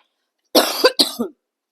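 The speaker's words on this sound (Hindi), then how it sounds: "आई वाज ट्राइंग हार्ड कि मैं खांसू नहीं" A person coughs twice in quick succession, close and loud, with a short pause between the harsh bursts and silence before and after.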